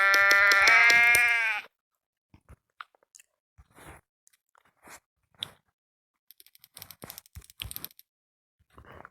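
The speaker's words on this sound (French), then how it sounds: "Tu vois où ils vont, les moutons?" Sheep on a farm: one loud, close bleat opens, followed by quiet crunching and chewing sounds as the animals feed nearby.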